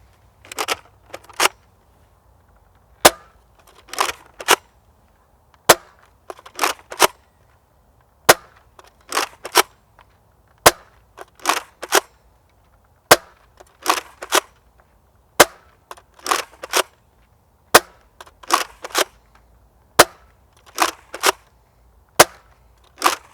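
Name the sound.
Nerf Rival Apollo blaster firing standard rounds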